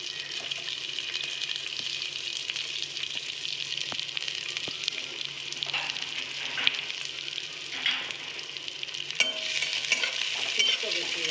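Curry leaves, green chillies and small onions fry in hot oil for Udupi-style fish masala, a continuous close sizzle with occasional stirring scrapes and crackling pops.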